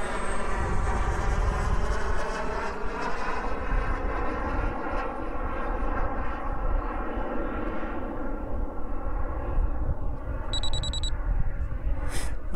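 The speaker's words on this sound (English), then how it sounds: "That's our 1 minute countdown" A short electronic beeping alarm marks the one-minute countdown on a jet's maiden flight, sounding briefly near the end over a steady, loud engine drone with layered harmonic whine.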